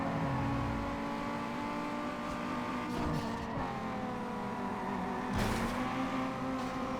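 A tuned car's revving engine in Need for Speed Underground 2 drones continuously, pitch rising and falling with shifts, loud and steady without any talk.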